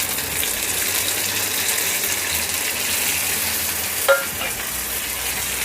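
Whole red chillies sizzling in hot oil as they are stirred into a dhaba-style urad dal tadka, a steady loud frying hiss with one brief clink of a spoon near the end.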